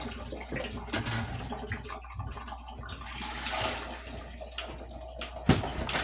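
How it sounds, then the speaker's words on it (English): Homemade broth is poured through a strainer for canning, a steady splashing, gurgling flow of liquid at close range with a sharp clink near the end. "I'm going to start straining this so that we can get this jarred up"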